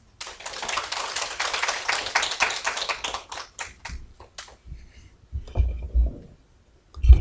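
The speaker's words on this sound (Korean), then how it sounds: "박수로 환영하겠습니다" A church congregation claps in welcome, a dense patter of many hands that thins and fades over several seconds into scattered claps, followed by low rumbling handling noises.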